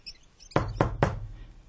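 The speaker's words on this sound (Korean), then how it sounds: "나무 탁자를 두드렸을 때 나는 소리," Three sharp knocks on a wooden table, evenly spaced and close by, against a quiet background.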